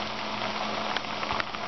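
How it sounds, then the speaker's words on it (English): Plantains frying in a pan, giving a steady, close crackling sizzle with scattered sharper pops and no talking. "There they are, frying up a storm."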